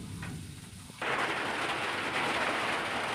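A fish head rubbed with salt and turmeric, here a pomfret head, sizzles and crackles in hot oil in a pan, the loud hiss surging up after a quieter first second and holding steady with no talking.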